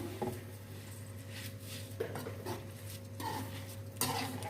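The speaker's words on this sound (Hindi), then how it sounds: "अभी हम चावल ऐड कर देते हैं। चावलों को हम मिक्स कर लेते हैं।" Soaked rice is stirred into a pot of pulao, giving soft scraping and a few sharper metallic clinks of spoon against the vessel over a low steady hum, quiet and close.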